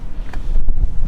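Wind buffets a microphone outdoors beside a 4x4 vehicle, making a steady low rumbling roar for about a second with no other sound over it.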